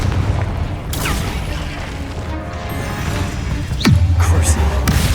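A Confringo spell blast in the Hogwarts Legacy video game goes off as sharp booming impacts with swooshing effects over steady game ambience. A louder explosion lands near the end.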